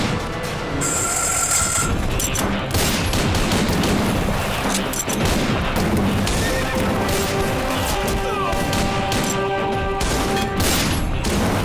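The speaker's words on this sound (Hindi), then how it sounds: "अब शादी में गोली चलाने की क्या जरूरत थी?" Gunfire at a wedding in a Hindi film scene from Sardaar Gabbar Singh, a loud, dense, continuous clamour of shots mixed with horses neighing and crashing, with no pause throughout.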